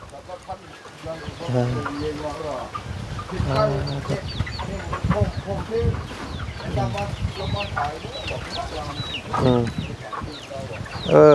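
Chickens cluck and squawk repeatedly at close range, several birds calling over one another in a busy farmyard chorus with some background noise.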